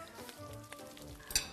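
Food sizzling and frying in a pan in a home kitchen, a steady low crackle heard close and alone, with a brief sharper hiss near the end.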